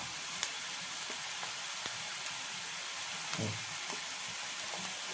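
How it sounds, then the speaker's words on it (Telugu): Eggs fry in a pan for a spicy egg curry, giving a steady, even sizzle with faint crackles throughout and no talking. "ఇప్పుడైతే మంచిగా వేగినాయి. ఇప్పుడు ఎగ్స్ పెట్టేద్దాం."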